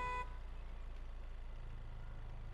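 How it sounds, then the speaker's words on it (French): A car horn in the video game Fortnite blares briefly at the very start, then drops away to a low, steady engine rumble; no speech. "Arrête de klaxonner, tu m'énerves."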